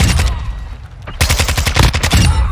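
Loud, close gunfire from a 7.62 Lockman rifle in Call of Duty: Modern Warfare II: a burst of shots, a brief lull, then a fast rapid string of reports.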